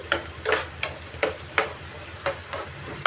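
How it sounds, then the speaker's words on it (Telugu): Ginger garlic paste stirred and fried in a pan for a fish curry, with a soft steady sizzle broken by rhythmic scraping strokes about every third of a second, close and alone. "అల్లం వెల్లుల్లి పేస్ట్ వేసుకుంటున్నాను ఇది పచ్చివాసన పోయేంతవరకు ఇలా కలుపుతూ ఫ్రై చేసుకున్నాము"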